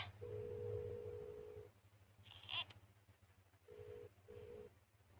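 A phone call being placed: a steady telephone tone sounds, then stops and returns as two shorter beeps after a brief higher chirp, faint over low background hum.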